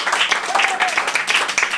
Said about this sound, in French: on peut encore l'applaudir très fort